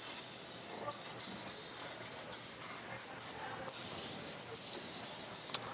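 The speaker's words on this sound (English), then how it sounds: "I'm full on spraying the frame in this car" Continuous aerosol hiss of Black on Black engine dressing sprayed into the cracks and crevices of a Ferrari engine bay, with short pauses and bursts as the nozzle is released and pressed again, close and steady.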